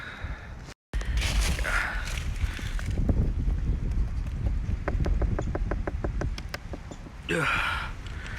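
Wind in a cold blizzard with everything iced over: loud, gusting buffeting noise on the microphone runs throughout, broken by a brief dropout, with some faint knocks and a rustling burst near the end.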